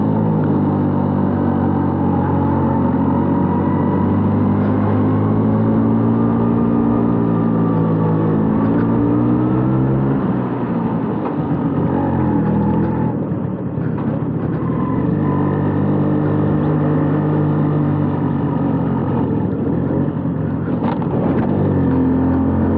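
A 1990 LML Vespa NV two-stroke scooter accelerates hard in second gear, its engine a loud, close, buzzing drone that rises and falls in pitch over a long pull with wind rush.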